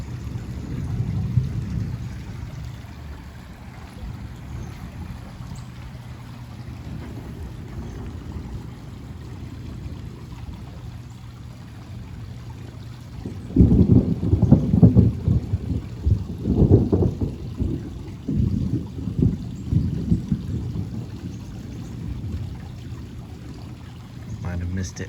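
Deep rumbling thunder rolls in from a severe thunderstorm, a low sustained roar that swells partway through over steady rain and wind.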